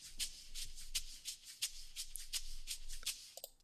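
A disco-leaning 80s percussion loop from an Oliver kit on Splice, with steady bright shaker-like hits in a quick, even groove, fairly quiet and heard alone without talk.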